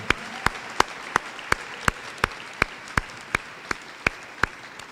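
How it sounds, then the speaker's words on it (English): A crowd at a graduation ceremony claps in steady unison, sharp evenly spaced beats about three per second, with no talking. "Let's give ourselves a round of applause"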